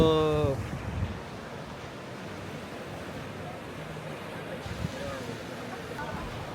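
Coastal wind blows at Yehliu on a rainy day in Taiwan, a steady broadband roar with gusty swells. A voice is heard briefly at the start.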